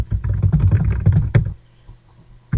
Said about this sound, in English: you might just type the assignment in the box